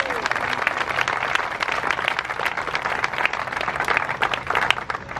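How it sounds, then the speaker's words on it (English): Steady, moderate applause from a crowd at a charity 5k run and walk ceremony, continuous scattered clapping at medium distance with some voices mixed in. "a round of applause from all of us"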